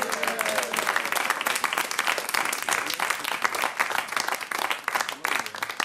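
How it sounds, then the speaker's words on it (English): An audience at a comedy evening breaks into a round of applause for England's Ashes-winning cricketers, many hands clapping in a dense, lively patter that holds steady for several seconds. "Give the lads a round of applause"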